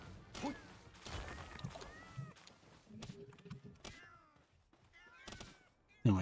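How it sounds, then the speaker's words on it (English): Cats in the video game Palworld meow and strike things, giving short mewing calls mixed with scattered dull thuds and crashes at a low, uneven level. "I hear the cat... I hear the, like, impact sound of the cats hitting things"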